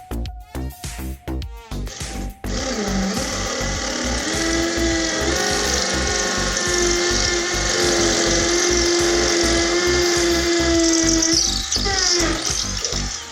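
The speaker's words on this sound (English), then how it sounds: "To drill the wall, you must drill using a concrete drill bit." A hammer drill fitted with a concrete bit bores into a bathroom wall to mount iron supports for a sink cabinet, starting with a few short stuttering bursts before settling into a loud, sustained grinding whine that cuts off near the end.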